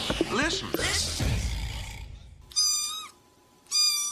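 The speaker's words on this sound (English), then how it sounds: "Oh, the sound of a tiny kitten." A tiny kitten gives two short, high meows in a row, close and clear, right after a stretch of other talk-like sound.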